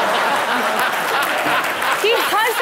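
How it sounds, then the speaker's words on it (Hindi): Studio audience applauding at a Hindi comedy show stage, a steady wash of clapping over a few seconds with a presenter's voice cutting in near the end. "तालियां तालियां."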